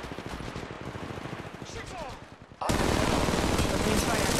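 Heavy sustained gunfire in Apex Legends Mobile, a loud dense burst of automatic shots that erupts abruptly and continues without pause after quieter game ambience.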